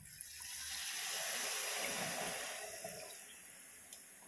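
Water pours steadily into a pot of fish curry, a broad rushing hiss that swells and then gradually tapers off, close and alone with no talking.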